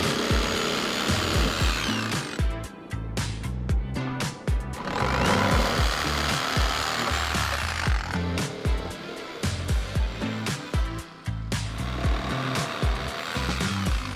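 A power tool whines and grinds while cutting wooden boards to size for a forest sauna build, loud and steady with repeated bursts and short pauses, no talking.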